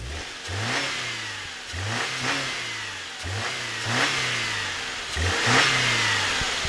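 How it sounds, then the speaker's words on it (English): Car engine revving repeatedly, several rising and falling bursts of throttle in a rough rhythm, close and fairly loud with no talk. "All right, Samir, rev that engine."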